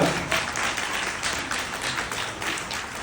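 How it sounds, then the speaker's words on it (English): Wedding guests break into dense, continuous applause during a best man speech, a full and even wash of many hands clapping close by with no talk over it. "That deserves a round of applause."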